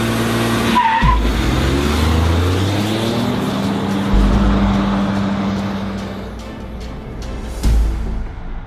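A 2015 Ford F-150 2.7L EcoBoost and a Ram 1500 3.0 diesel pickup launch from 0 to 60 mph in a drag race, with loud, close engine roar rising through the gears and a brief tire squeal at the start.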